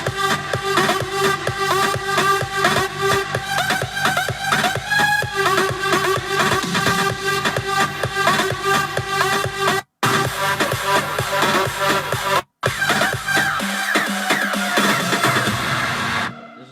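Loud, dense electronic dance music with a heavy, steady beat and layered synths, briefly cutting out twice before the bass drops away.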